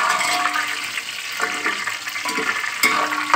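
Pulao ingredients frying in hot oil, a loud, steady close-up sizzle and crackle with a few clattering stirs running through it.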